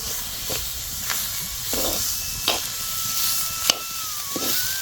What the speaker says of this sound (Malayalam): ഇനി നമുക്ക് ഒന്ന് ഇളക്കി മൂടി വെച്ചിട്ടൊന്ന് വേവിച്ചെടുക്കാം